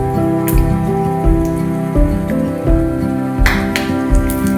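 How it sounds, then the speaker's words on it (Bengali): Peanuts fry lightly in hot oil for poha, making a dense, continuous crackling patter like rain, with a steady tonal hum running underneath. "প্রথমে আমি গরম তেলে চীনাবাদামগুলো দিয়ে দিয়েছি, আর এগুলো হালকা আমি ভেজে নেব"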